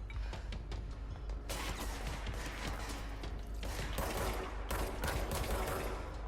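Rapid automatic gunfire from a Rainbow Six Siege match, dense bursts of shots and mechanical clatter, loud and close, with brief pauses between volleys and no talking.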